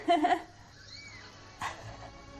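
Thin, high-pitched squeaks from tiny newborn kittens, a couple of faint cries close by in an otherwise quiet room.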